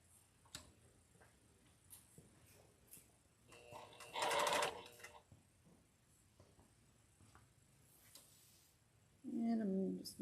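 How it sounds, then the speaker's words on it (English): Sewing machine stitching quilt pieces with nested seams: two short, close bursts of rapid mechanical stitching separated by quiet handling noises and soft ticks. "So I'm just going to sew all of these on."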